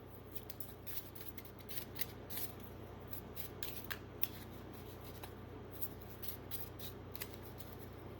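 Tarot cards being shuffled, a rapid series of crisp riffling flutters and soft slaps repeating close to the microphone, quiet and without talk.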